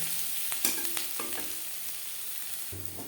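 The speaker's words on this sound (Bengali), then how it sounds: "পেঁয়াজ লালচে করে ভাজা হয়ে গেছে" Onions sizzle in a pan as they fry to a reddish brown, a soft continuous crackle with a few sharp taps and scrapes of a stirring utensil.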